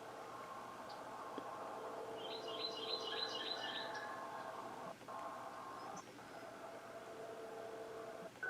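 A northern parula sings a faint, distant buzzy trill in short rising notes, repeated briefly over steady background hiss and hum.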